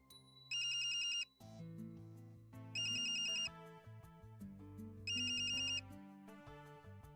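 A mobile phone ringtone plays a melodic electronic tune in three repeating bursts with bright beeping accents, clear and close, with no voices.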